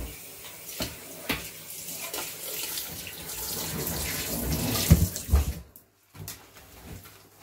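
Water runs from a tap into a home sink during cleaning, a steady close splashing stream that grows louder and more turbulent before cutting off abruptly, followed by a short quieter trickle.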